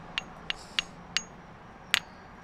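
Light hammer taps on a rock bearing pyrite crystals: four evenly spaced sharp clicks, then a slightly louder double tap after a pause, close to the microphone over a quiet background.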